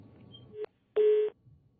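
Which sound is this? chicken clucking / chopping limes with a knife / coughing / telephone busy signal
telephone busy signal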